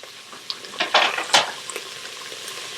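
Garlic hits hot oil in an Instant Pot and crackles in a few short, bright bursts over a low background hiss, fairly close and moderately loud, with no talking.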